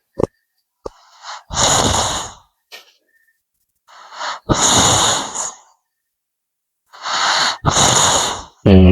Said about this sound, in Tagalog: Naghagok na yung kasama ko dito mga kababayan.